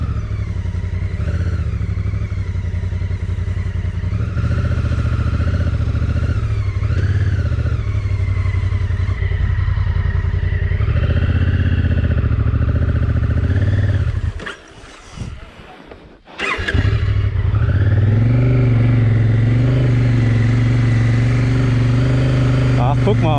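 A motorcycle rides off-road on a muddy track in Norway, its engine droning loud and steady up close, cutting out briefly partway through before roaring back.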